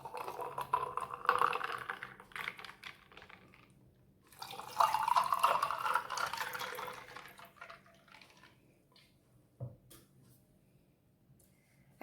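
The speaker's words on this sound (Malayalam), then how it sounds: "ഐസ് ക്യൂബ്സ് ഇട്ട് ഗ്ലാസ്സിലേക്ക് നമുക്ക് ഈ ജ്യൂസ് പകർത്താം." Carrot lime juice is poured into a glass over ice cubes in two close, gentle pouring bursts with faint clinks, followed by a brief knock and quiet tail.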